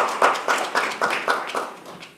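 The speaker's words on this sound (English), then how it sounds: "And I think all of you deserve a round of applause." A small audience gives a brief round of applause for families at a community event on pretrial justice, heard as about seven distinct, evenly spaced bursts of clapping that fade toward the end.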